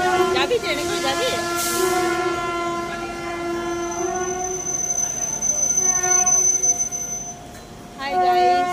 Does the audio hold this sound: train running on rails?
yes